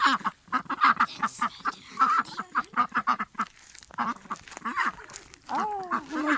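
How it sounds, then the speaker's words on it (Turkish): Repeated duck quacks at a campsite near Ankara in quick irregular bursts, fairly close, with a few nasal honk-like calls near the end and no talking. "Ördeklere bakar mısınız?"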